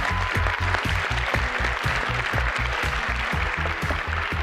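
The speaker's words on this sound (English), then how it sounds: "let's give them both a big round of applause." A magic show audience gives a big, loud, steady round of applause while a regular bass-heavy music beat pulses underneath the whole time.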